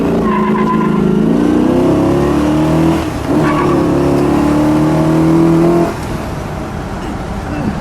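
A 1964 Chevrolet Impala SS's big 409 V8 engine revs loudly and holds a rough, throaty roar for several seconds before dropping back to a lower rumble.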